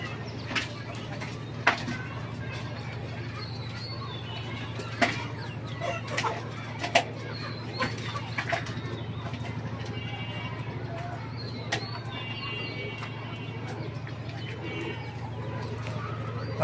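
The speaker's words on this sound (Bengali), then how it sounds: "ওদের খাবার দিলাম পাখিদের।" Backyard chickens and other farm birds cluck and coo softly while being fed, with scattered short calls over a steady low hum and faint background talk.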